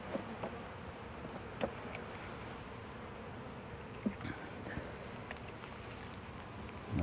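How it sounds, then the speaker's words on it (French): A low, steady buzz of many honeybees at an open hive in early March fills the air at close range, with a few faint knocks and clicks scattered through it. "Je vais pousser les abeilles."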